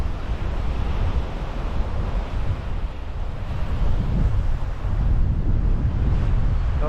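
Steady wind buffets the microphone over a broad wash of sea waves below the high cliffs at West Bay, Dorset, a continuous loud roar with no voices.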